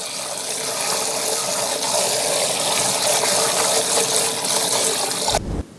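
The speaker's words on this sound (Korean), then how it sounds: "절여진 상태를 2번 깨끗이 헹궈 주세요" Salted napa cabbage is rinsed under running water, a loud, steady gush and splash close by that stops abruptly with a thump at the end.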